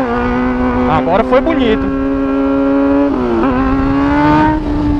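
A Honda Hornet motorcycle engine holds a loud, buzzy, sustained rev with rising and dipping pitch, close by, with a person speaking briefly over it.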